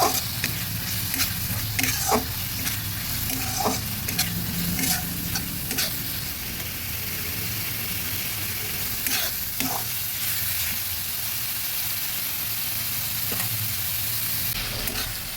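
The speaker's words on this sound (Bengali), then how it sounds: "এবার ভালোভাবে নেড়ে দিচ্ছি" Masala with added water stirred and frying in a pan for katla fish curry: a continuous close sizzle broken by repeated scraping strokes of a spatula, steady and fairly loud throughout, with no voices.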